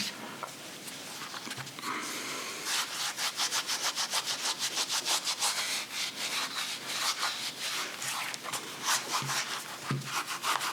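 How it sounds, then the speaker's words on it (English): Low-grit sandpaper scrubbing the inside of a rubber Nike SB Dunk sneaker sole, a close, steady rasping in quick back-and-forth strokes that keeps going without a break, with no speech. "I always like to use a little sandpaper, use a very low grit, but not a whole lot on the inside"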